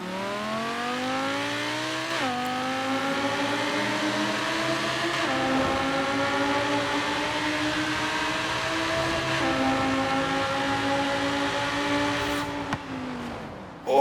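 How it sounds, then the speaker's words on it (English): Audi R8 V10 Plus or Lamborghini Huracan in Forza Horizon 3 roaring through a tunnel, a loud sustained engine and exhaust note rising through the gears with several upshift dips and a sharp pop near the end. "They've just done something for the exhaust on this. Sounds very cool indeed."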